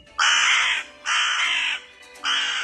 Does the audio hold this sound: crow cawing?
yes